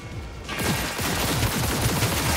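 Rapid gunfire from a weapon in the video game Cyberpunk 2077, a dense burst of repeated close shots in quick succession that starts after a brief moment and continues to the end.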